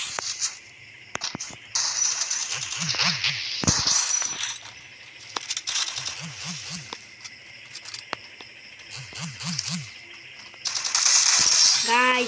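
Sharp gunfire from a Counter-Strike match, a few loud cracks and bursts scattered among game effects and clicks, with a brief intense burst near the end.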